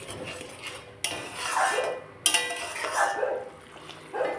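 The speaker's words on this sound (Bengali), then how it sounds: "যখন মশলাটাকে ভালোভাবে কষিয়ে নিচ্ছি" Egg masala being stirred and fried in a pan, with a spoon scraping and clinking against the metal in several distinct strokes over a soft sizzle.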